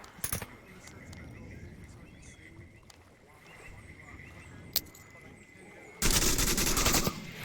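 Automatic gunfire in the VR shooter Onward: a loud, dense burst of rapid shots near the end, after a stretch of quieter background noise with a few isolated cracks.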